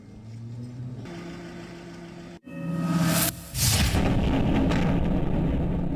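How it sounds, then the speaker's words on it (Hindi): A heavy rumbling blast from the bombardment of Kyiv during the Russia-Ukraine war cuts in sharply after a steady engine-like drone, followed by loud, sustained roaring noise. "यूक्रेन की राजधानी कीव पर कब्जे के इरादे से भयंकर बमबारी का सिलसिला अभी रुका नहीं है।"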